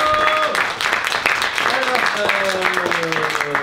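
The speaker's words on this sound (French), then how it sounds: "Bah déjà, les applaudis une dernière fois quand même." An audience applauds teenage actors after a theatre show, steady clapping throughout with voices and some tonal sound mixed in.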